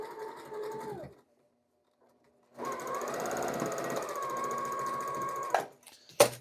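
A sewing machine stitches rows of a scrap quilt with a steady, close mechanical whir that pauses briefly, then resumes and runs evenly before ending in a couple of sharp clunks.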